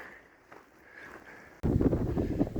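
Wind buffets the microphone on a mountain trail through pine woods along the Colorado Trail, starting abruptly partway through as a loud, low, rumbling roar that persists to the end after a quieter opening.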